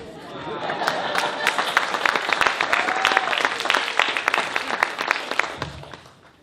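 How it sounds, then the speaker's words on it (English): Crowd applause at a juggling demonstration show, a dense wash of many hands clapping that builds quickly, holds steady and then fades out near the end. "I usually do this so the crowd bursts into applause."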